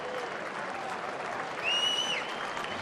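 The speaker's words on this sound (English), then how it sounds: "He'll get a round of applause just for the effort." A ballpark crowd at a Rangers–Tigers game in Detroit applauds a sliding catch attempt in foul ground, broad sustained clapping and cheering from a large distant audience, with a brief whistle rising over it midway.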